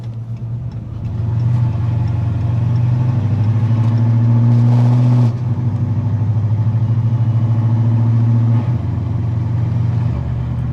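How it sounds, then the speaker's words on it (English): A Dodge Hellcat KillKat sedan drives with a loud, deep engine drone held steady in high gears, swelling briefly midway and then settling back, constant and near throughout. "Right now I'm just shifting to the highest gears possible in manual mode because this thing is so loud"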